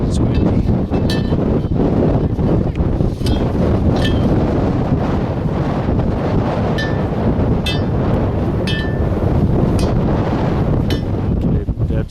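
Strong winter wind on Mt Whitney roars and buffets continuously, loud and close, with a few faint creaks and knocks mixed in.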